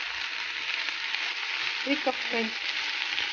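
Chicken and pumpkin frying in a skillet with cumin, turmeric and curry, giving a steady close sizzle throughout while someone speaks briefly over it.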